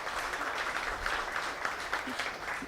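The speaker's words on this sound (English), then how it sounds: "Please give a big round of applause" A lecture-hall audience at a Teachers' Day oration applauds in a dense, continuous wash of clapping, steady and fairly distant throughout.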